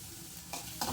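Chopped spring onions sauté in a hot pan for a sweet corn soup, with a soft sizzle and two quick stirring scrapes near the end, quiet and close.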